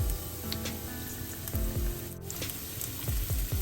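Chopped garlic sizzles quietly in sesame oil for a prawn curry. A soft, steady frying hiss plays with a few light clinks of a spoon stirring in the pan.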